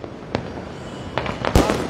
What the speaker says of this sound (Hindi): आसमान जो है वो आतिशबाजी और शानदार रंगों से भर उठा है